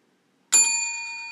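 A single bright bell strike, sharp onset and a clear ringing tone that sustains and slowly fades, close and alone in silence.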